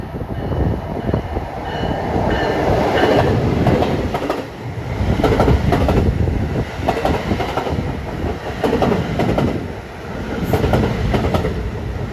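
Pennsy Heritage Unit locomotive leading a train past at close range, a loud continuous rumble of engine and rolling cars with rhythmic wheel clatter on the rails, no voices.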